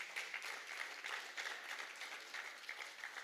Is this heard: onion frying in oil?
no